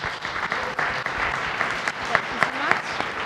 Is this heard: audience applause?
yes